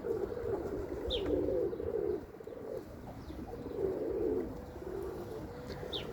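Soft, low pigeon coos repeat in slow rolling phrases over faint background noise, with a few thin chirps in between.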